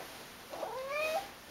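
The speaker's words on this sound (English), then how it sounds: "my cat, my black cat, where is he?" A black long-haired cat gives a single drawn-out, rising-and-falling meow, fairly close and clear against a quiet room.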